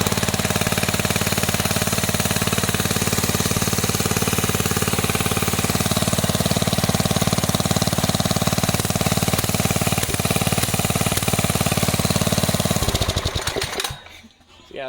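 An old small engine, started by pull cord, runs steadily at a loud, even idle for about thirteen seconds, then cuts out and winds down near the end; no talking over it.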